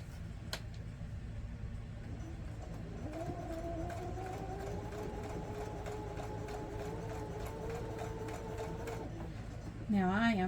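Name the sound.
sewing machine sewing a quilted pillow top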